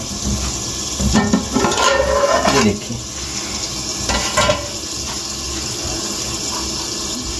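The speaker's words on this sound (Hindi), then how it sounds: "अभी इसी टमाटर में जो मसाला मैं बना रहा हूँ इसमें डाल रहा हूँ मटर" Peas drop into a tomato masala cooking in a pan, stirred with a few scraping, rattling bursts over a steady sizzle that eases toward the end; someone speaks briefly.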